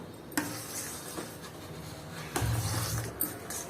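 Ashoka halwa being stirred with ghee in a pan, soft scraping and light sizzling with a few sharper clinks of the spoon against the pan.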